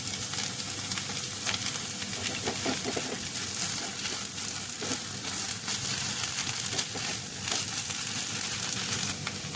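Sabudana khichdi for fasting is stirred in a hot pan as crushed peanuts go in, with a continuous close sizzle and repeated scraping stir strokes throughout.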